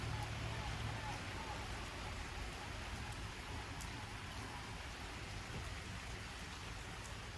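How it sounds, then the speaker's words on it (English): Steady rain pours down in an even, continuous hiss, with no voices and no change in intensity from start to end. "I love the sound of rain."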